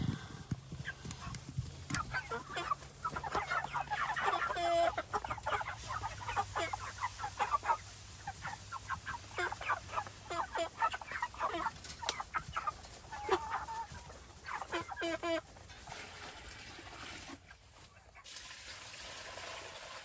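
Cornish Cross broiler chickens, a flock of over 400, cluck and chirp steadily while feed is poured into feeders, a dense close chorus of overlapping bird calls with a brief quieter gap near the end.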